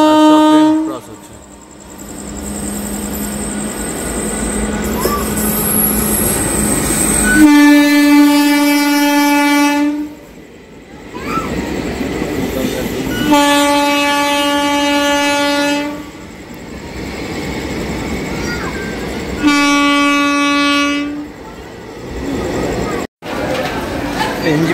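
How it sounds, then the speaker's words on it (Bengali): Trains pass near Ghaziabad while a held train waits. Loud, long horn blasts sound repeatedly with rolling wheel clatter between them, and voices are audible in the background. "আমাদেরকে দাঁড় করে রেখেছে গাজিয়াবাদের কাছাকাছি, আর সব ট্রেন ক্রস হচ্ছে"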